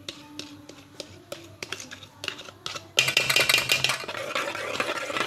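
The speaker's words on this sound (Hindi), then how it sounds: "इसको मैंने अच्छे से मिक्स कर लिया" Cream being mixed into cooled custard in a bowl, sharp rhythmic spoon taps and scrapes at first, then a denser, louder stirring and clattering sound from midway on.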